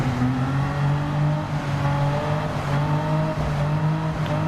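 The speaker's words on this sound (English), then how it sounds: "As you can hear him having to play with that throttle to make sure he keeps those tyres from spinning away." A BMW engine in the Gran Turismo 7 video game drones steadily on a wet track, the throttle modulated in small dips and surges to keep the tyres from spinning, loud and alone without talk.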